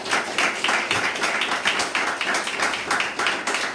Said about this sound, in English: Wherever you are, just clap your hands and give God the glory.